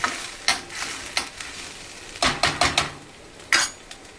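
Spinach being sautéed in a pan for palak paneer, with a series of sharp spoon-on-pan scrapes and taps in irregular bursts over a faint sizzle, close and fairly quiet, no voices.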